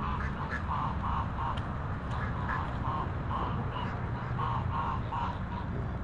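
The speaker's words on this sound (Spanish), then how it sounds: "Muy activos esta mañana los gansos aquí en el parque" Geese honk in a city park in the morning, a series of evenly spaced nasal calls in short bursts over a steady background hum, moderately distant.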